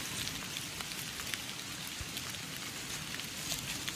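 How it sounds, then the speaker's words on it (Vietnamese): Steady rain falling in a hillside forest in Dong Nai, a continuous dense patter on leaves and ground, soft and even throughout with no voices. "Xui cái bị mưa."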